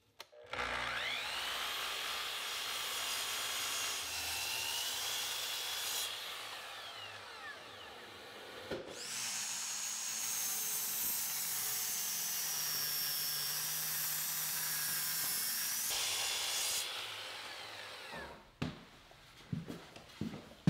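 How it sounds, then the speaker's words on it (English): A miter saw spins up and cuts through white oak for a woodworking table build, its blade whine rising twice in long bursts, with a short pause between cuts and clatter as it winds down. "make this cut with the miter saw"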